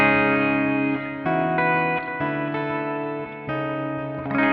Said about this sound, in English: Some delay and reverb.